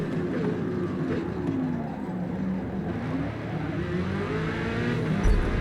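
Race cars in a racing video game on the Nürburgring make a steady, close engine roar that drones on without break and swells slightly near the end.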